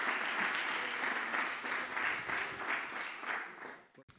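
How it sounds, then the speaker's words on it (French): A conference audience at a food and territories plenary applauds a speaker, dense sustained clapping with a gently rising and falling level that fades and stops just before the end. "On peut l'applaudir."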